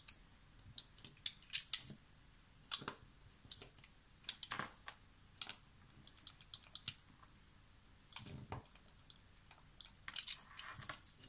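Scissors snip through paper to trim the two short sides for a Mini Traveller craft project, giving repeated crisp cuts in uneven bursts close up, fairly quiet, with no talking.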